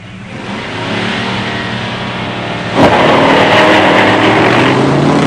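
A 1968 Dodge Charger with a HEMI and four-speed drag races a 1970 Buick Grand Sport Stage 1 automatic, loud engines revving hard, then surging louder as the cars launch and accelerate away.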